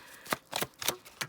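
Tarot cards riffle-shuffled close up in four quick bursts, each a crisp papery flutter with brief pauses between.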